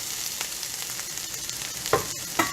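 Onion and garlic fry in a pan for a lentil and roasted-vegetable dinner, a steady broadband sizzle running throughout with two brief louder scrapes or stirs near the end; no one talks.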